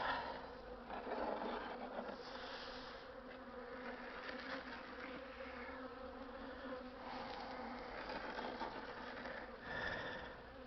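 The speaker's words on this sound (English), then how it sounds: "they're still very calm bees" Honey bees buzz at an open hive, a dense steady drone from many insects close by, gently swelling and fading, with no talking.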